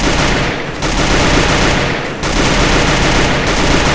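Loud, relentless automatic weapon fire in Garena Free Fire, rapid shots packed into continuous bursts with two short pauses, close and dominant with no voices.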